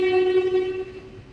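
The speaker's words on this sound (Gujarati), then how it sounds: "ટ્રેન આવી ગઈ છે ફાઇનલી" A train horn sounds close and loud as a single sustained, rich tone, then slowly tapers off while the train pulls into a station.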